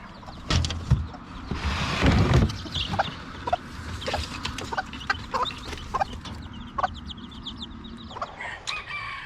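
Several small bantam chickens cluck and chatter nearby, with a rooster crowing early on and scattered sharp calls continuing throughout; no talking.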